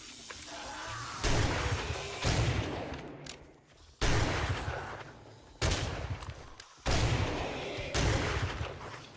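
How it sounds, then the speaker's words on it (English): Shotgun blasts in 7 Days To Die, five or six loud, close shots spaced about a second apart, each with a sharp onset and decaying tail. "Use the shotgun."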